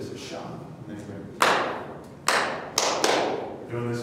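Hands clapping to interrupt snoring, four sharp, loud claps spaced unevenly with ringing decay, over a background of reverberant room noise.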